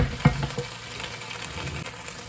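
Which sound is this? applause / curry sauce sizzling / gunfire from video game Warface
curry sauce sizzling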